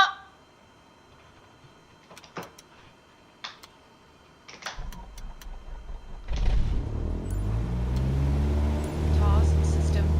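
A simulated propeller plane engine in Microsoft Flight Simulator is started: a few cockpit clicks, then the engine catches and settles into a steady, rising drone with a spoken voice over it.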